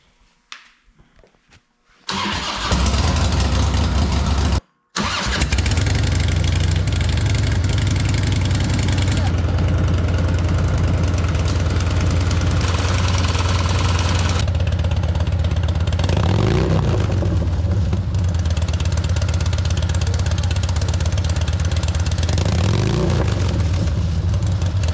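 A bagger motorcycle engine on a freshly flashed tuning map cranks after a short quiet start, catches and settles into a loud, steady idle close by, with a brief cutout and slight revs later.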